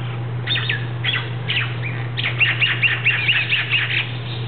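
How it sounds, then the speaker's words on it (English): Birds chirp and sing in repeated bright, quick phrases on a Maui morning, clear over a steady low hum. "Just listen to those birds."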